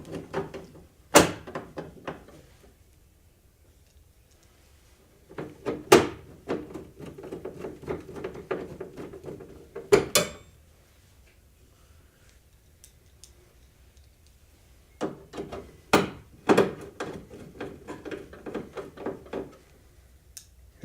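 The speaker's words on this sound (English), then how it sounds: "we're going to use the self-tapping screws to mount this bracket to the door" A power driver sends self-tapping screws into a metal vending machine door to mount a bracket, metal to metal, in three separate bursts of whirring with sharp clicks and thunks between long quiet gaps.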